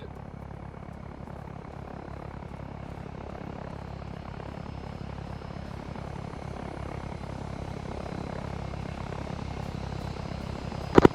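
An Orca helicopter in Arma 3 coming in to land, its steady rotor and engine roar droning continuously and growing slightly louder, with a sharp click at the very end.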